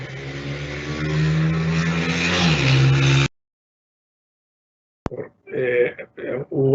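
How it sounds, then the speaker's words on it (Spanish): A motorcycle passes by outdoors during a business session, a loud steady engine drone with a brief pitch drop as it goes, then cutting off, followed after a pause by people talking. "Hubo por ahí una moto que intervino el sonido."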